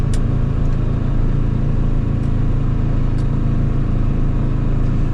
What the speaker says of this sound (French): Le moteur fait quand même plus de bruit que la version Euro 4